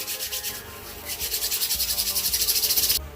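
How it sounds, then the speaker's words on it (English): Hands rubbing hair product together between the palms to make waves, a steady, close, rhythmic swishing friction that quickens and grows louder before stopping abruptly, with no talking. "So now rub it into your hands."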